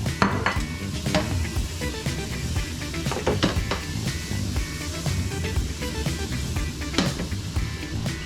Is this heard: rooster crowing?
no